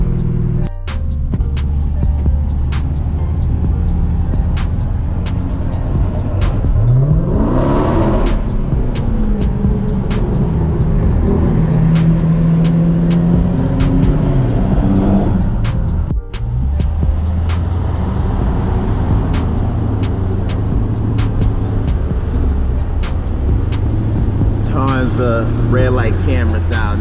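Dodge Charger Daytona 392 cruising in traffic near tractor trailers, giving a steady low engine and exhaust drone with road rumble, one brief swell of acceleration midway, and passing vehicle noise around it.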